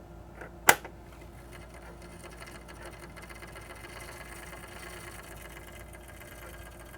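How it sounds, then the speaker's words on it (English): A Sega Saturn CD drive with a faulty laser scuffs a test disc, a steady whirring, rattling mechanical buzz with a sharp click near the start, close and continuous. "Sound like it was scuffing the disc"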